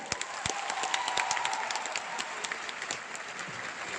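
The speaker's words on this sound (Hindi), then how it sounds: "बजाओ ताली, क्यों नहीं बजा रहे?" Audience applause at a leadership conclave fills the space with dense, continuous clapping from a large crowd, steady and fairly loud throughout with scattered sharper individual claps.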